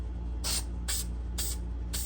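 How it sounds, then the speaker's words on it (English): Short bursts of 3M Super 77 multi-purpose adhesive sprayed from an aerosol can onto a Jeep fender liner, four evenly spaced hissing puffs over a steady low hum, close and fairly loud. "some 3M Super 77 multi-purpose adhesive here. I'm going to spray that on here and let it get tacky"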